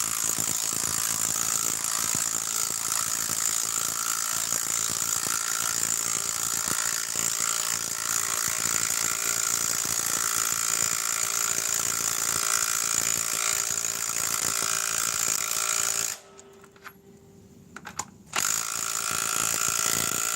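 A Bosch power tool driving a heavy socket runs as a loud, continuous mechanical whir with a steady ratcheting buzz, briefly cutting out near the end before starting again.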